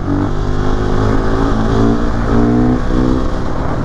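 A 2020 KTM 690 SMCR single-cylinder motorcycle engine revs loudly and close, its pitch rising and falling through steady throttle pulls with a continuous buzzy drone and no talking.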